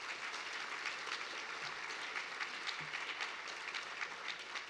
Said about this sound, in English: let's give a round of applause to all the people who really risk their lives here as journalists